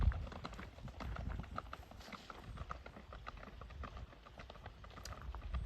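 Hooves of several endurance horses clip-clopping past at speed on a trail, a quick, irregular patter of hoofbeats that stays fairly faint and distant throughout.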